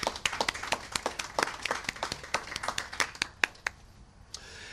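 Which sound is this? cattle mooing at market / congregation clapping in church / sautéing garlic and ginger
congregation clapping in church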